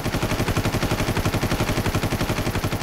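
A weapon firing continuously in the Far Cry video game, a dense, steady automatic rattle with an evenly pulsing rhythm, loud and unbroken from start to finish.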